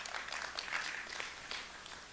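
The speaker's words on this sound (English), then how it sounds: "Give her a round of applause." An audience applauds steadily, a soft, dense patter of many hands clapping at a distance, fairly faint and continuous throughout with no voices standing out.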